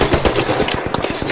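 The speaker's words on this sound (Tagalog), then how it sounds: "Meron bumabaril din sa akin." Rapid automatic gunfire from the video game Arc Raiders, a dense run of sharp close shots in quick succession filling the short moment at steady loudness.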